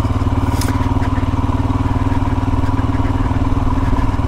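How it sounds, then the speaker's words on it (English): A Royal Enfield Himalayan motorcycle's single-cylinder engine thumps in a steady, close, loud idle-like rhythm throughout, with no talking over it. "24 horsepower on the Himalayan, for me it's not much of an issue"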